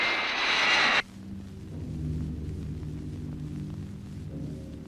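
A Mirage F1 fighter jet's engine, a loud broadband roar that cuts off abruptly after a second, leaving a lower rumbling drone that carries on steadily.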